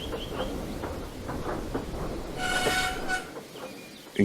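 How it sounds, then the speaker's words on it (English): A train shunting into a platform rolls in with a low rumble and rhythmic clatter, then a bright screech of brakes or wheels midway before it settles near a stop. "Soon he shunted Duke's train into the platform"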